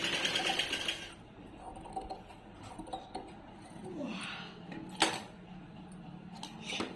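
A sewing machine with a normal presser foot stitches saree-fabric piping onto a prince-cut blouse. A quick, dense burst of stitching at the start gives way to quieter, scattered clicks and taps from handling the fabric.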